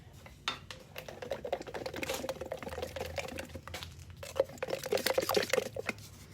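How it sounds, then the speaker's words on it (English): Pottery glaze mixed with asphaltum, iron oxide and turquoise is stirred in a container, making a steady wet scraping and swishing with small clicks, close and fairly loud, and busier toward the end. "I'm gonna stir it and see where that gets me."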